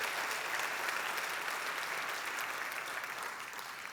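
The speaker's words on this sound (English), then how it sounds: "So let's give him all a round of applause." An audience at a city State of the City address applauds, a dense, even wash of many hands clapping at moderate distance that continues steadily and tapers slightly at the end.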